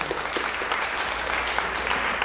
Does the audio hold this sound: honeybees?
no